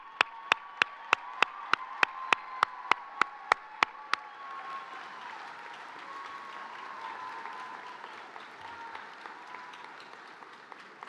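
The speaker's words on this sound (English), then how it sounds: "give them a round of applause" Commencement graduates applaud family and friends at a university ceremony, with sustained crowd clapping rising after a run of sharp, evenly spaced claps in the opening seconds.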